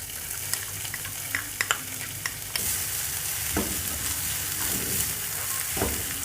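Onions sizzle and crackle in hot oil for chicken tikka, with scattered pops and stirring scrapes, then the frying hiss swells louder and steadier partway through.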